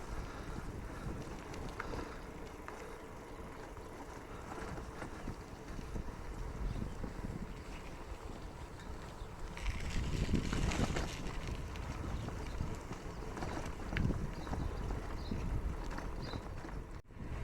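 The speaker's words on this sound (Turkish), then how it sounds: "Soldan böyle tatlı tatlı esen rüzgar" Wind blowing across open country along a rough road past summer housing estates, a steady broad rushing with gusty swells and buffeting, loudest midway through.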